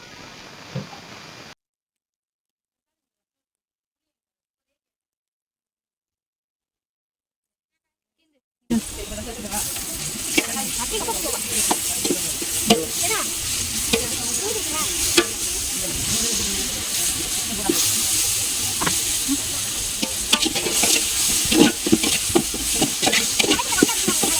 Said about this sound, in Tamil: வெங்காயம் நல்லா வதங்கிருச்சு. இப்போ நம்ம இஞ்சி பூண்டு பேஸ்ட் போட்டுக்கலாம்.